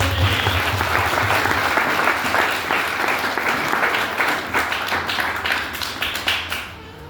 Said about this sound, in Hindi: जोरदार हम ताली मारेंगे